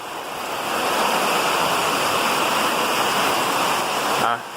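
Heavy rain pours steadily outside a building during a storm, a dense continuous wash of noise that holds loud and even before cutting off abruptly near the end.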